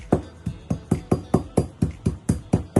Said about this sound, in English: grind everything together